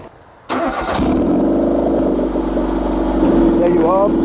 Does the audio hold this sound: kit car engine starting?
yes